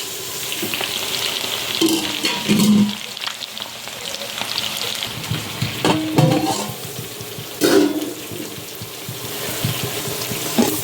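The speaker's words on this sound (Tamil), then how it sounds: "அதனால் இந்த எண்ணெயில் பொரிச்சுது" Steady sizzling of biryani ingredients frying in hot oil, close and continuous, with occasional stirring clinks and crackles.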